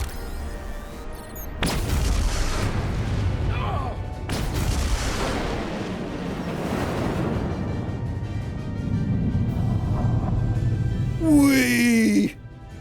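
A detonation explosion in Star Trek: Resurgence erupts with a sharp onset, then a long rumbling roar that swells and lingers for several seconds, with a second strong blast partway through and brief voices near the end.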